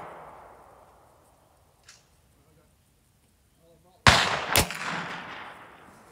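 A rifle fires once at a small steel plate about 200 yards downrange, a loud sharp crack midway through followed by a long rolling echo, after a quiet stretch with faint background noise.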